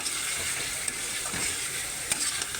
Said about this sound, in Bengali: আলুটাকে ফ্রাই করলাম না, মশলার সাথে একটু কষাবো